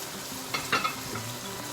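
Ground spices with turmeric, paprika and salt frying in a pan for karahi qeema, a soft steady sizzle with a couple of brief scraping stirs in the middle, close and fairly quiet, no voices.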